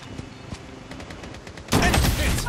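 Gunfire in the mobile shooter Project Bloodstrike, a few light pops and then a sudden loud sustained burst of automatic fire near the end, close and dense.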